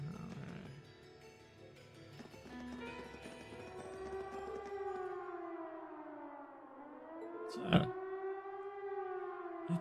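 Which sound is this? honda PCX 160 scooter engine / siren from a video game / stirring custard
siren from a video game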